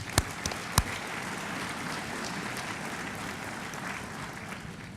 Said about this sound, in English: Please give yourselves a huge round of applause for making this conference a statement of the interest that exists in investing in Africa today.